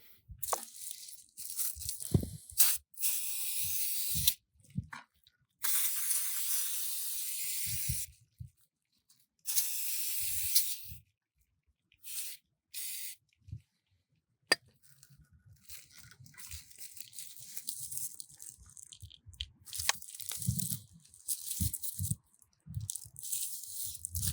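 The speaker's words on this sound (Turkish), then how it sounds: "Şimdi ben gene her ihtimale karşı bir balata spreyi sıkacağım" Brake cleaner sprayed onto the front brake caliper of a Zontes 250 TE motorcycle during a pad change, heard as several loud hissing aerosol bursts of a few seconds each, separated by gaps with scattered handling clicks and knocks.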